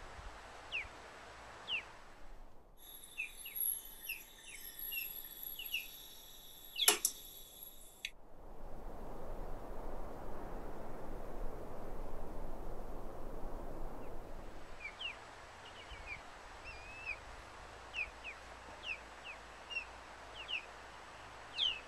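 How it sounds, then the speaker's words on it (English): Birds chirp outdoors during a solar eclipse, with scattered faint calls and tweets at a distance, a louder burst of song partway through and a stretch of rustling noise, all quiet and with no talking. "A lot of bird chirping all of a sudden."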